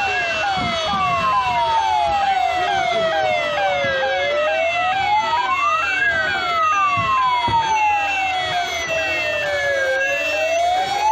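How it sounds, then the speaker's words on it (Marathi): An ambulance siren wails loudly and continuously as it passes in a flag-hoisting ceremony parade in Chandrapur, its tone sweeping slowly up and down over several long cycles. "पोलीस आरोग्य विभाग रुग्णवाहिका"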